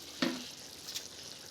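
Tomatoes and green chillies are stirred into a frying Kerala-style chicken curry, one quick sizzling scrape of the spoon followed by a faint second stir, quiet and close.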